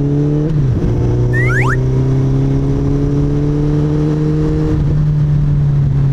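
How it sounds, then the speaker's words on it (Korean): Suzuki Hayabusa motorcycle fitted with a Two Brothers slip-on exhaust, its engine holding a loud, steady deep drone close by after a brief dip, with a short whining squeal passing over it. "투브라더스 배기가 되어 있어서 그런지 몰라도 굉장히 우렁찬 배기음을 저에게 보여주고 있습니다"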